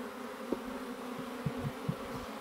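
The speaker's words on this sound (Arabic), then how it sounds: "شوف النحل ما شاء الله" Honey bees hum at an open hive during a colony inspection, a steady low drone with a few brief louder buzzes as individual bees pass close.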